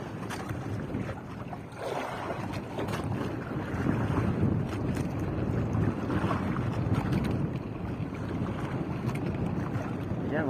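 Strong wind blows across the open sea around a small fishing boat, a continuous buffeting roar that swells and gusts over ten seconds with water noise beneath and no talking.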